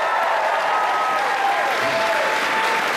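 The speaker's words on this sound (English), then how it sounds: "So, round of applause for everyone that you can see on this list." Audience applause at the Kitacon 2012 convention opening ceremony, a steady wash of many hands clapping from a large crowd, with no talk.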